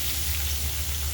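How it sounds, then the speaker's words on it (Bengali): Chopped onions frying in hot oil for beef haleem, a dense, steady, close sizzle that fills the short moment without any talking. "এখানে আমি এখন পেঁয়াজ কুচি"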